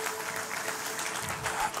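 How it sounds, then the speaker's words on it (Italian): A conference audience breaks into applause at a Cross Conference session in Italy, a dense, steady wash of clapping at moderate level filling the short stretch without pause. "facciamo un applauso"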